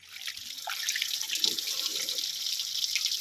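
Water runs from a tap in a steady, fairly quiet splashing stream that starts at the beginning and continues without a break.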